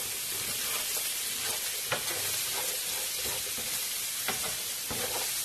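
Egg and bacon fry in a pan with a steady broadband sizzle and scattered pops and crackles, close and continuous with no talking.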